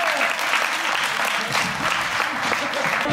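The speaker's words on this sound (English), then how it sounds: "Give yourself a clap, everybody." A youth worship event crowd clapping for themselves after a prayer, a full, steady burst of many hands filling the space, close and loud with no speech on top.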